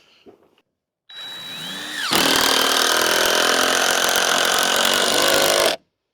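Power tool driving a screw down during farm building work, a sustained loud whirring drone for about three and a half seconds after a brief spin-up, then stopping abruptly.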